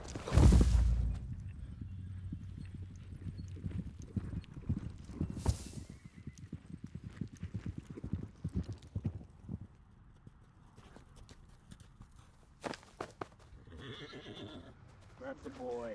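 A horse neighs loudly near the start, then hooves clip-clop in a rapid galloping rhythm through a dramatic film scene, with shouting voices and tense talk over the action.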